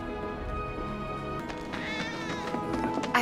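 A cat meows repeatedly in the Final Fantasy 7 Remake video game, drawn-out caterwauling cries rising over a low game background hum.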